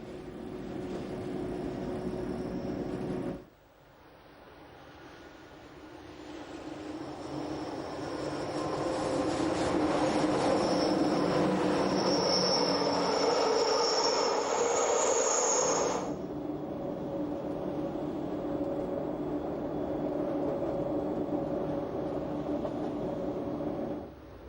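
The Glacier Express rumbles through the Zuondra spiral tunnel on its climb toward Preda, a steady enclosed roar of wheels and carriages that swells in the middle, with high squealing from the rails, then eases.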